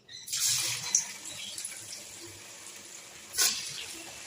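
Bengali pitha cakes slipped into hot oil set off a bright, hissing sizzle up close, with a burst at the start and another sharp flare of crackling near the end over a continuous frying fizz.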